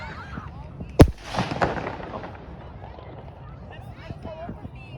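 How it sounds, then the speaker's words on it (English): One sharp firework burst cracks loudly at a Victoria Day display in a Toronto park, followed by a fading rumble and scattered crackle, with people chatting nearby. "We still have more fireworks to come."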